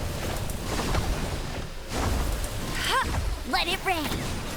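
Steady rain from the video game Genshin Impact hisses as a broad, continuous wash throughout, with a voice sounding over it partway through.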